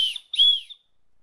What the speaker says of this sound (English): it has a little emergency whistle built into the handle